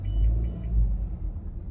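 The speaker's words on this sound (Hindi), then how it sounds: "गाड़ी कहाँ से बैक करूँ यार" A car engine idles and rumbles low and steady while reversing on a city road in Delhi, a close, continuous drone with slight swells and no talk.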